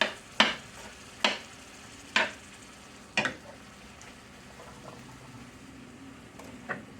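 Vegetables being stirred in a cast iron pan for Southern cornbread dressing: about five sharp, close scraping strokes at uneven intervals over a faint, steady sizzle.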